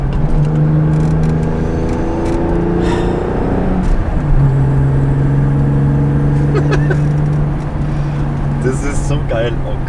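A BMW M635CSi with worn connecting-rod bearings and a faulty oil pump drones steadily while driving at about 70 km/h, its engine note rising and shifting with throttle, as people talk over it in the car.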